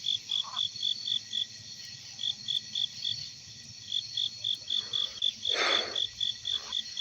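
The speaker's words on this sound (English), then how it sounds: "You might hear some crickets, sure," Crickets chirp at night in a steady, regular pulsing trill, clear and continuous, with a few soft low croaks and faint background noise beneath.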